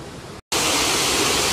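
Water pours steadily over a river weir, a loud, dense roar that cuts out for an instant and then continues unbroken.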